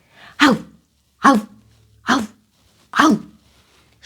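A cartoon dog barks at a kitten in a Ukrainian children's game: four loud, sharp barks, evenly spaced about a second apart, with quiet gaps between.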